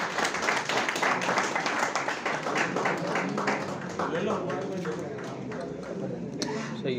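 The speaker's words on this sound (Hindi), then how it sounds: "सभी खिलाड़ियों का तालियों से एक बार स्वागत करें।" An outdoor crowd at a friendly cricket tournament's closing ceremony claps to welcome the players, irregular and moderately loud, fading slightly as it goes on, with people talking underneath.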